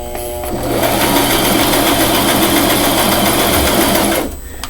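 A sewing machine stitching pleats on a pink frock runs loud and close in one steady continuous burst of rapid mechanical whirring, starting abruptly and stopping near the end.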